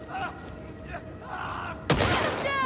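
A single loud, sharp gunshot rings out close by in The Last of Us Part II, following a stretch of quieter game ambience and a voice.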